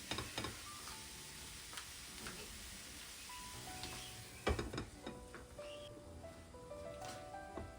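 Kebab cooking in a pan in its own released water with very little oil, soft sizzling and bubbling under scattered clicks and scraping of utensils, quiet and close.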